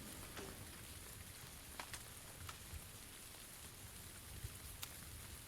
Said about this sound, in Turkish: Şu yağmur sesi var ya tam zamanında gelmiş.